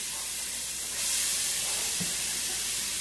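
Onions and carrots sauté in butter, giving a steady, even sizzling hiss that swells slightly partway through, with no talking over it.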